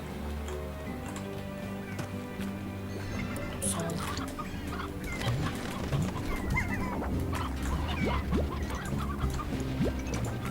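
Chickens clucking in the farming game Slime Rancher, a busy layer of soft clucks and ticking over a steady game soundscape, continuous and moderately loud with no talk.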